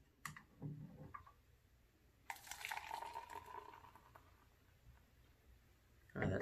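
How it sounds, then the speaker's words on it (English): Tecate Titanium beer, a 7.5% Mexican lager, pours into a glass with a burst of splashing and fizzing that gradually settles into a quiet hiss, with a few small clinks around it. "Oh, that sounds so good pouring in the glass."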